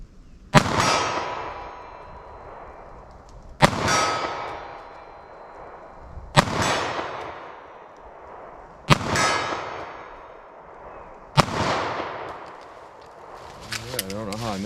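9mm pistol fired slowly with a short barrel at an outdoor range, five loud sharp shots spaced a few seconds apart, each followed by a ringing metallic clang from steel targets and a long decaying tail.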